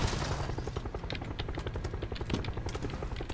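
A helicopter in the battle-royale video game PUBG chops steadily and loudly, its rapid rhythmic rotor thumping filling the whole clip without pause.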